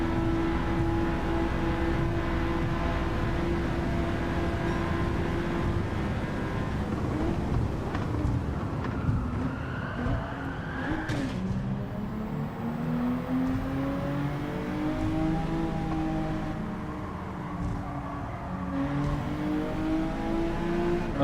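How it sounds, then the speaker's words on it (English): A V8 Audi R8 engine in the racing game Forza Horizon 5, holding a steady high-revving drone with rising and falling pitch as it shifts and accelerates, loud and continuous throughout. "V8 Audi R8 is overpowering me."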